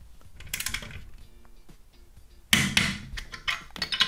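A torque wrench tightens the cylinder head bolts on a Vittorazi Moster Plus paramotor engine to 25 Nm, giving close, sharp metallic clicks and clanks, with a louder burst of ratcheting clatter partway through.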